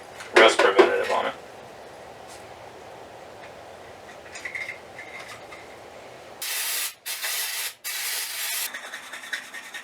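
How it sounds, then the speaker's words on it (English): Aerosol rust preventative sprayed onto a rusty Honda Prelude fuel tank: three short hissing bursts close by near the end, after earlier scrubbing and handling noises, with someone talking faintly. "let's clean this stuff up and spray some rust preventative on it"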